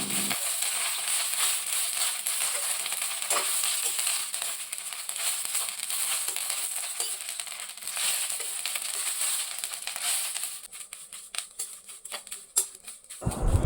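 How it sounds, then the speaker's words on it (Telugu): Curry leaves fry in hot oil in a pan over a medium flame, giving a dense, steady crackling sizzle that turns into sharper, louder popping near the end. "ఆయిల్ కూడా హీట్ అయిన తర్వాత ఫస్ట్ వచ్చేసి కరివేపాకుని ఫ్రై చేసుకోవాలండి."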